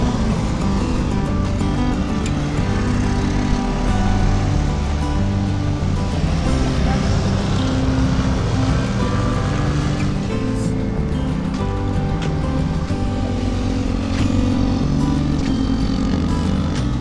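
Heavy steady traffic rumbles along Davao Coastal Road, a dense continuous roar of many vehicles with engine drone and wind, loud and unbroken throughout, with no clear voices.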